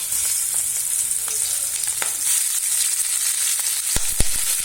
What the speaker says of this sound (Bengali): মাছটা ভেজে নিচ্ছি দেখো